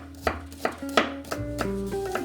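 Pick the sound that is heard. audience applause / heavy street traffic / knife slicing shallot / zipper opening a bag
knife slicing shallot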